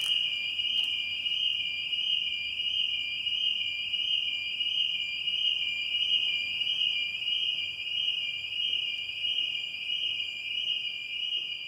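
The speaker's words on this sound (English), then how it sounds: "The ringing alarm, which we would find out later was triggered by us, added an eerie sense of dread to the exploration" A fire alarm rings inside an abandoned Debenhams department store in Cork, giving a steady, unbroken, piercing electronic tone at moderate level with faint room hiss and no voices.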